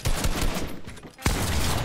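Gunfire rings out in a Fortnite match during a 1v2 fight, a rapid burst of close, loud shots with a sharp, heavy report near the middle and steady game noise throughout.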